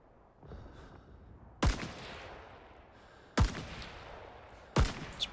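Three sharp, loud M1 Garand sniper rifle shots in Rising Storm 2, spaced about a second and a half apart, each with a ringing tail over a low, steady background rumble.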